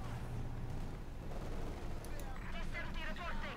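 Machine gun and other gunfire from a Company of Heroes 2 match between Wehrmacht and Soviet forces rattles and thumps at a distance, fairly quiet beneath an excited commentator talking.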